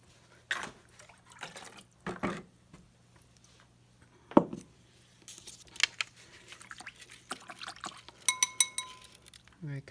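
Clean water is poured into a container for rinsing paintbrushes, a light splashing trickle broken by clinks of glass and scattered small knocks and taps.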